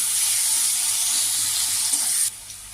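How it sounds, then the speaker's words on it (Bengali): Onions sizzle in hot oil for a Bengali fish curry, a bright, even hiss close by that holds steady, then drops suddenly softer near the end. "পেঁয়াজ দিয়ে দিলাম পেঁয়াজটা একটু লালচে লালচে হলে আমি আলুগুলো ছেড়ে দেবো"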